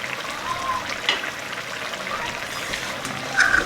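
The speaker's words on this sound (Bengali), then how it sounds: "আবারও আমি বেশ কিছুক্ষণ ফুটিয়ে নেব" A pot of Bengali vegetarian potato and pointed gourd curry (aloo potol jhol) simmering, with a steady soft bubbling and gurgling throughout and a slightly louder stir near the end.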